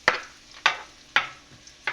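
Garlic sautéing in a pan for ginisang labanos, a light sizzle punctuated by four evenly spaced sharp scrapes of a spatula, close and clear with no talking.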